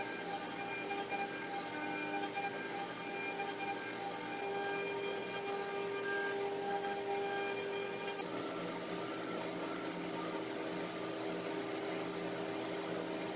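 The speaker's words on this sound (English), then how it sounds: "run the 3D finishing path. You notice that again, just like as in VCarve, the 3D finishing path is rastering left and right, cutting away the material" A CNC router making a 3D finishing pass in MDF, rastering back and forth, gives a steady high-pitched spindle whine with tonal hum, constant in level throughout, with no talking.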